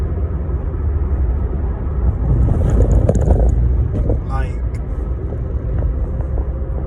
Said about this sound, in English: I'm driving on icy roads, so I have to be careful